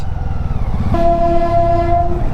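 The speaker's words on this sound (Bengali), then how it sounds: "একটা ট্রেন দেখার ইচ্ছা ছিল, ছোট ট্রেন হলো, দেখতে পেলাম, দেখাতেও পারলাম" A small train passes near Farakka Barrage, its steady rolling rumble joined about a second in by a loud, sustained horn blast that holds to the end; no voices.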